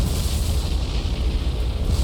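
Bombs from dive bombers bursting on and around warships in the naval game War on the Sea: a heavy, continuous rolling boom and rumble, loud and deep, with no voices over it.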